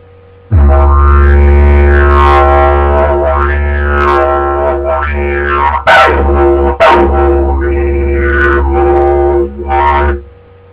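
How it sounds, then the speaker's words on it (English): A didgeridoo drones loudly and continuously up close, its deep buzzing tone shaped by shifting, wah-like vocal sweeps and a couple of sharp accents. "this is a didgeridoo. It's an Australian instrument."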